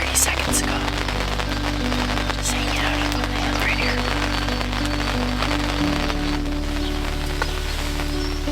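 Rain falls steadily on an open field during a turkey hunt, a dense, constant hiss of drops with a low background hum running throughout.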